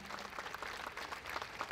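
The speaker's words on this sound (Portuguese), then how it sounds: "Um forte aplauso também para o Dr. Cesário" Applause from an event audience for Dr. Cesário, a steady dense clatter of many hands clapping together, moderately distant and fairly quiet, running the whole moment.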